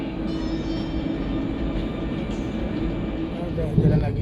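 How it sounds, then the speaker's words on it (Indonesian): A KLIA airport rail line train rolls along again, giving a steady, close rumble of wheels on track and carriage noise throughout, with a brief louder knock near the end. "Udah jalan lagi keretanya."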